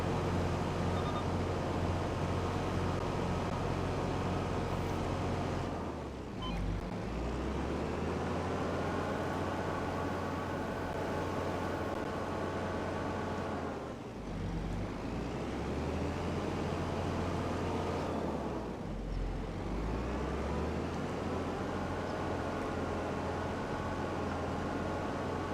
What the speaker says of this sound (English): So it looks like right now that the 2255 is just a really nice, useful tractor.